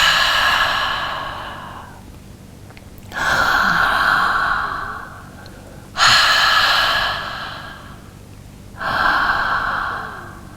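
Slow open-mouth breaths during a beginner yoga breathing exercise, four long airy exhales like fogging a mirror, each swelling then fading, close and clear with no talk.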